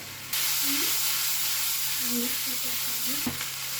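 Vegetables for a restaurant-style white sauce cheese pasta fry and get stirred in a pan, giving a steady hiss of sizzling with a low hum beneath and a few scraping stirs, no one speaking.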